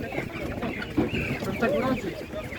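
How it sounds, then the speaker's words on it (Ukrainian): A white chicken clucks at a poultry market in a short burst of close, choppy calls, with voices and market bustle in the background. "А це біла курка, це яка порода?"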